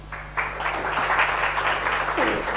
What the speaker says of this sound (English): Can we have a louder round of applause for Natalie for keeping her nerve during the technical issues?